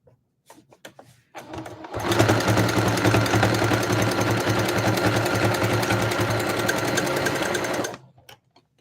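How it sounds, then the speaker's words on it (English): A sewing machine stitches down a fabric scrap notebook cover, running in a steady, fast mechanical chatter for about six seconds after a few brief starts, close and loud with no talking. "I'm going to sew this part down."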